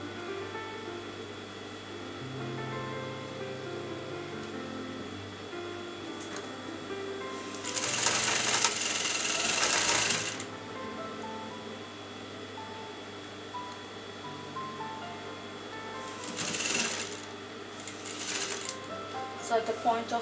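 A sewing machine stitches green lace onto the edge of raw silk fabric, its steady whirring hum swelling in louder bursts as it runs, under a continuous background of a person talking.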